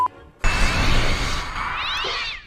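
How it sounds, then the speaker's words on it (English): A stock cat screech, the film sound effect reused in Harry Potter and the Prisoner of Azkaban, rings out as a loud, close, sustained yowl that rises and wavers for about two seconds after a short quiet lead-in. "Cat Wilhelm scream."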